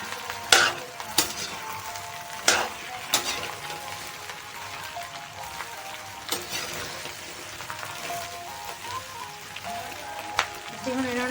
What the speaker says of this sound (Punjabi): ਇਹਨੂੰ ਅਸੀਂ ਇਹਨੂੰ ਚੰਗੀ ਤਰ੍ਹਾਂ ਮਿਕਸ ਕਰਦੇ ਆ ਜੀ ਭਿੰਡੀਆਂ ਨੂੰ ਚੰਗੀ ਤਰ੍ਹਾਂ ਭੁੰਨਾਂਗੇ ਜੀ